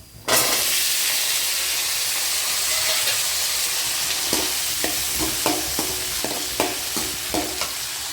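Onion frying in a pan alongside chana dal, dried red chillies and garlic: a loud hiss of sizzling oil starts abruptly and holds steady, punctuated by a series of sharp scraping stirs toward the end.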